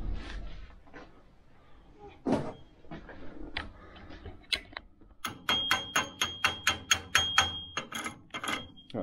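A hand hammer chips slag off a stick weld on a homemade press brake. After a few scattered knocks comes a quick, even run of about a dozen sharp metallic taps, close and fairly quiet.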